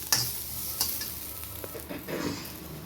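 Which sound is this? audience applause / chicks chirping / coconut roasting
coconut roasting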